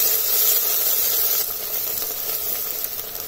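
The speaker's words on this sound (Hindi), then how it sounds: "अब इसमें जो हमने हरी मिर्च, अदरक, लहसुन कटा हुआ था उसको डाल दिया है" Chopped green chilli, ginger, garlic and onion frying in a pressure cooker, giving a steady bright hiss that eases slightly after a second and carries on alone.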